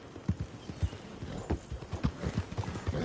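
Horse hooves clip-clop steadily on a street in Red Dead Redemption 2, a quick, even rhythm of close, distinct knocks over faint city ambience.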